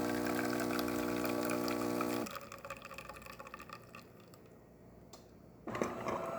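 A DeLonghi Magnifica espresso machine, freshly serviced after a broken steamer, pumps a test shot: a loud steady tonal hum for about two seconds, then quieter trickling flow, with another burst of pump noise near the end.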